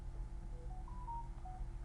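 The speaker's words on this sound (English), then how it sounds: "phone keeps going off, gotta get rid of it" A mobile phone goes off with a short series of soft electronic beeps at changing pitches, fairly faint over a low background hum.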